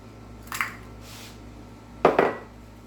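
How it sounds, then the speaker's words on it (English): An egg taps against a glass bowl, giving two quick sharp clicks early, then a louder double crack about a second and a half later, with a quiet room around it. "So let's crack my egg. Put that in there."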